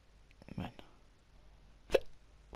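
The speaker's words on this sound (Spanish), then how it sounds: "Lo que faltaba es tener hipo" A single hiccup breaks through near the end of a short stretch of quiet, preceded by soft breathy vocal noises from a person playing the video game Final Fantasy XV Platinum Demo.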